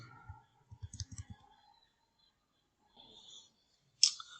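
Mouse clicks while working in Adobe Illustrator, a quick run of soft close clicks followed by a pause and a single sharper click, faint and alone.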